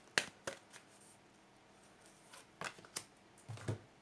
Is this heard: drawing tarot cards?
yes